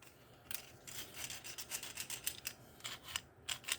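A knife blade is drawn repeatedly across the coarse side of a Cuda knife and hook sharpener, making a faint, close, rhythmic rasping of quick strokes with no talk.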